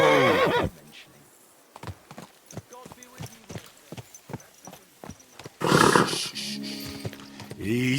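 A horse in Kingdom Come: Deliverance II whinnies loudly at the start, then a steady run of clip-clopping hooves follows with a snort, and a second neigh breaks out near the end, close and clear.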